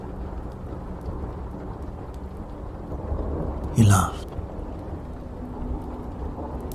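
Steady rain hisses in the background with a short, sharp burst like a thunderclap midway, all under a narrator briefly reading a bedtime story.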